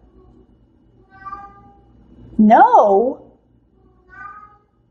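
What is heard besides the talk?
cat meowing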